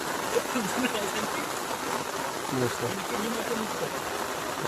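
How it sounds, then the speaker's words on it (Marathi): Heavy monsoon rain falling steadily outdoors during fishing in the Konkan, a dense, even wash of hiss and patter that holds unbroken throughout, with faint voices mixed underneath. "काय असतो ह्या पावसाचा जोर ना बेकारच आहे."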